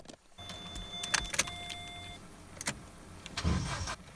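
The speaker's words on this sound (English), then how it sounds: "you try and start the car, it whizzes over, won't fire up" A Vauxhall Corsa with a faulty crankshaft sensor cranks over without firing. Brief starter whirs and clicks come in bursts, with a faint electric whine in between, close by and without speech.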